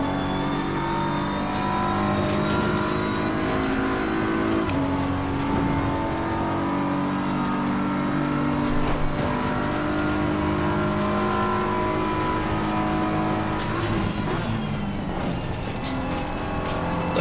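Race car engine in a VR racing game, revving hard and steadily for a long stretch, with the pitch climbing and dropping through gear changes and corners, loud and continuous with no talk.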